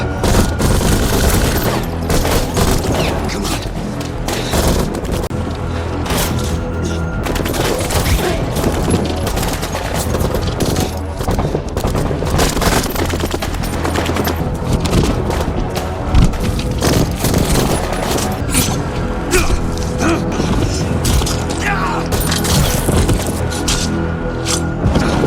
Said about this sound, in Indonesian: Namun tiba-tiba mereka diserang oleh musuh sehingga kontak senjata pun terjadi lagi.